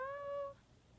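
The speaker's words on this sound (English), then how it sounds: "If you guys can hear meowing," A single short cat meow, close and clear, fading into quiet room noise.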